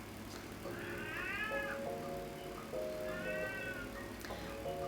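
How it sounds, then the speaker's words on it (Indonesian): A pet cat gives two drawn-out meows over a steady background hum, each rising and then falling, with a faint tick between them. "Kucing lapar nggak lapar guys, dia emang suka kayak gitu."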